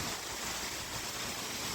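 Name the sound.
waterfall flowing down from above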